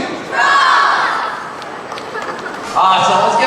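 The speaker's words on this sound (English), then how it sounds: "I'm going to count down for 1, 2, 3, and we're going to say drums" A high school drumline sendoff crowd shouts together in a loud, sustained group yell, then a second burst of cheering follows near the end.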